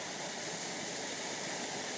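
The Grey Mare's Tail waterfall in the Scottish Borders roars as a steady, dense rush of falling water, constant and fairly loud with no pauses or voices.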